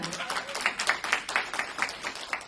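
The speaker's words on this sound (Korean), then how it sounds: "박수 한번 해주셔야 돼요." A seminar audience at a brand membership event claps briefly on request, a modest patter of hands with distinct individual claps, moderately near and fading as it ends.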